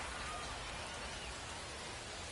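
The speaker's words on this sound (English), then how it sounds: "the rain continues to come down, and yeah, it looks like it's coming down a little bit heavy" Rain coming down fairly heavily during a minor-league baseball game between the San Antonio Missions and Frisco RoughRiders, a steady, even hiss of falling drops heard alone with no pauses.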